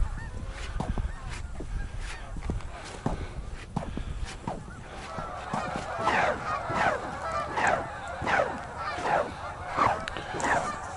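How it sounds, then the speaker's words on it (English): Geese coming in off stubble fields honk repeatedly, the calls growing louder and more frequent over time, with crunching footsteps on ice underneath early on. "The living geese are coming in off of the stubble fields, looking for places to land here."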